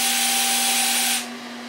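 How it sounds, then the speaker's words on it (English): A power drill whines steadily while pre-drilling screw holes in the rabbets and dados of a wooden hutch cabinet carcass, then winds down as the bit stops near the end. "I'm pre-drilling some holes in the rabbits and the dados that will eventually accept screws"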